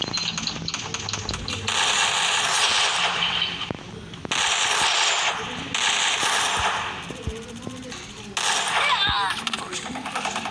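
Rapid automatic gunfire from the Free Fire 4v4 mode plays in loud, sustained bursts with brief gaps, layered with game effects and close voices talking over it.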